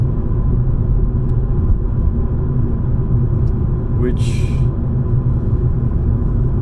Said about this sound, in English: I'm driving my car,